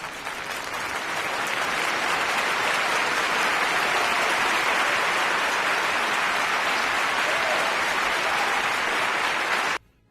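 Recorded applause effect, a dense, loud crowd clapping that swells in quickly, holds steady for nearly ten seconds and then cuts off abruptly.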